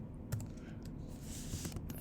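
Light typing on a computer keyboard: a few soft, sparse key clicks, faint and close, over a low background hum.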